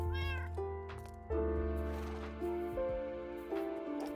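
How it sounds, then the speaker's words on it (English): Several Minecraft cats meow one after another in high, tonal calls, fairly close and clear, with no talking over them. "Teleporting cats."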